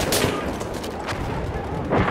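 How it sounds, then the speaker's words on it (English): Enemy machine gun and other gunfire in Battlefield 1 multiplayer Conquest on the Achi Baba map, a dense loud barrage of bursts and booms, close and continuous throughout. "There, enemy machine gun."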